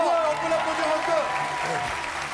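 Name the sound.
studio audience applause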